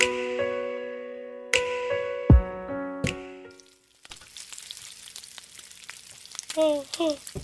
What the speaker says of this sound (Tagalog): Dito may piniprito ako isda.